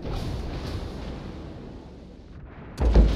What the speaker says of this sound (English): now here comes the Flint's torpedoes. That's going to be at least 2